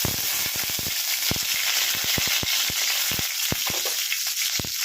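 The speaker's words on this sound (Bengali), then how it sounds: "আমি আগে আলুগুলোকে ছেড়ে দিচ্ছি। আলুগুলো আমি ভেজে দিচ্ছি।" Potatoes sizzle in hot oil in a pan, a dense steady frying hiss broken by frequent sharp crackles and pops, close and loud with no talking.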